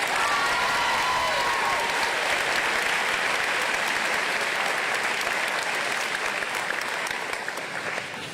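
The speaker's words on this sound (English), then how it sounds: "please join me in applauding her" Loud, dense applause from a large audience at a 2023 commencement ceremony, sustained and even for several seconds before easing slightly toward the end.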